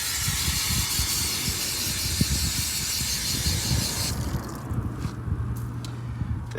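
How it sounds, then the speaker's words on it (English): Water running over a generic carpet and upholstery brush during a car wash, a steady loud hiss and spray that suddenly thins out partway through, leaving a quieter trickle with a low hum underneath. "Go ahead and rinse off the brush."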